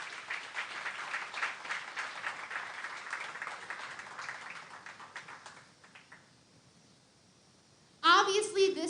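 An audience applauds at a junior fair king and queen coronation, a dense, moderately distant wash of clapping that fades out, followed by a burst of louder sound at the end.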